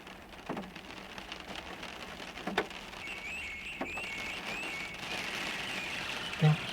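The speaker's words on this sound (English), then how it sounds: "Now, what's that I'm hearing? Is it... What's that called? Rain?" Rain falls steadily as a soft, continuous patter with a few sharper drops and faint chirping in the background, fairly quiet and without talking.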